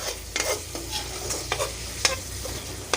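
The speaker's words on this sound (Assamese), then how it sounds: "তো মই এনেকৈ ভাজি ভাজি মানে লৰাই থাকোঁ" A curry base frying in hot oil sizzles continuously while a spoon stirs it, with quick scraping strokes clicking against the pan at a close, fairly loud level.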